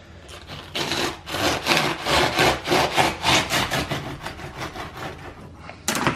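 Kitchen knife sawing through the tough top of an artichoke, a close, rhythmic rasping with repeated back-and-forth strokes for several seconds, with no talk.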